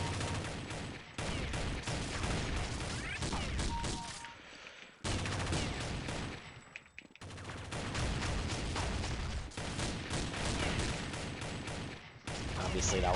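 Counter-Strike: Condition Zero gunfight with dense, rapid volleys of close gunshots and bursts of automatic fire, broken by a few brief pauses.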